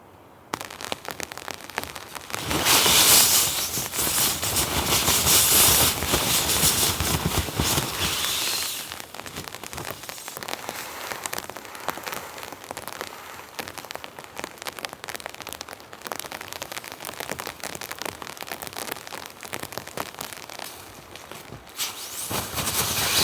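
Rain falls during winter storm camping amid snow, a dense close patter on a surface that swells loud early on, then settles into a steady, slightly softer downpour.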